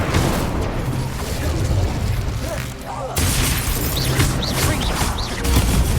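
Incendio fire spell cast during a Harry Potter video game duel: a dense, loud whoosh of flame with booming crackles. It stays sustained and roaring, briefly dipping before surging again amid ongoing combat effects.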